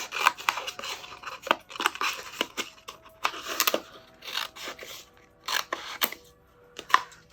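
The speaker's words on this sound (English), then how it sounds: "Cut off our sleeve here." Scissors snip through the thick fabric of a shirt sleeve in a quick run of sharp, irregular cuts, close and fairly loud, with brief pauses between bursts.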